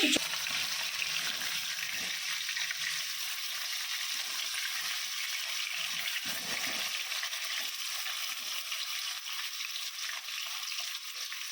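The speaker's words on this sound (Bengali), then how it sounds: "এখন মা অলরেডি আলু ভাজা বসিয়ে দিয়েছে" Potatoes fry in a pan on a home kitchen stove, giving a steady, close hiss of sizzling oil that runs without a break and has no talk over it.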